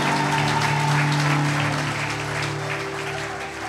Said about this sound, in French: On acclame pour le frère Jonathan